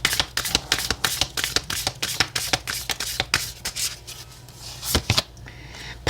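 Oracle cards shuffled by hand for a tarot reading, a close rapid run of crisp papery riffles and taps in a steady rhythm, thinning out near the end, no talking.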